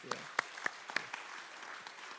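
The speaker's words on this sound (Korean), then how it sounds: "다시 한번 우리 박수합니다." A church congregation claps during a Sunday morning service, a handful of sharp, irregular claps at first that thin out into scattered faint patter. The claps are fairly quiet and there is no talking over them.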